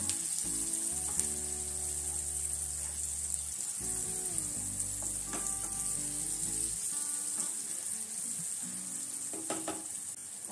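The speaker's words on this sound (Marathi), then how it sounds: "कोथिंबीर तेलात परतली" Coriander fries in hot oil with a steady, close sizzle that runs throughout, alone with no talk.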